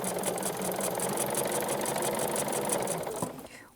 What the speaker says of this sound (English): You can take this thread handle and just give a couple of stitches until you get started and continue stitching.